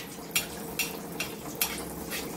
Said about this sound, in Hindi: अब इसको ये हमारा तेल गर्म हो गया है, अब इसमें ऐसे डालते जाएंगे